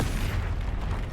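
The Confringo blasting spell in Hogwarts Legacy lands as a deep, rumbling explosion. The loud boom fills the short moment and carries heavy low-end rumble throughout.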